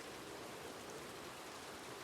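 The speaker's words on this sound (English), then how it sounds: "God, it's raining." Steady rain in a video game world, falling on a metal roof, a dense even hiss filling the space with no voices.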